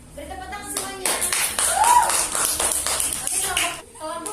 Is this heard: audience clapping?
yes